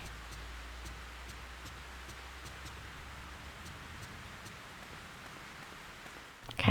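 Rain falls steadily in the video game Fatal Frame 3, a soft, even hiss with faint ticking, quiet and uninterrupted until a brief louder bump at the very end.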